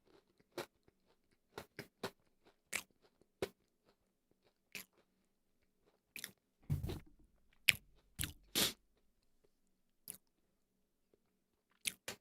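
Someone bites and chews a crunchy wafer-like cake with cream filling, producing sharp isolated crunches spaced irregularly with quiet gaps, close to the mic and alone without talk.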